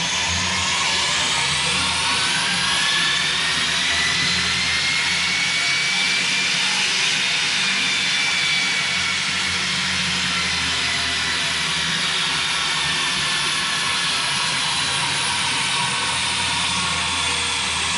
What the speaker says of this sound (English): use this as an opportunity to try to catch some sound clips of the intake